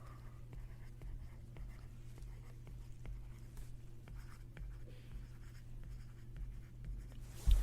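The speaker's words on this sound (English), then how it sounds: "I'm going to write out sensory organs." Pen writing out notes, soft scratchy strokes in short repeated bursts, quiet and close over a steady low hum, with no voices.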